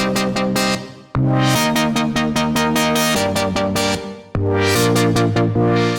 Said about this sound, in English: It's 2 saw waves and a square wave.